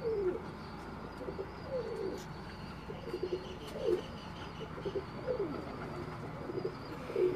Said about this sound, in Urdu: یہ بڑے خوبصورت کبوتر